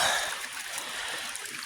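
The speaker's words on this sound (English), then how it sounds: "This is a pretty little waterfall." A small waterfall on a woodland trail stream splashes and gurgles steadily close by, a bright continuous rush of water with no voices.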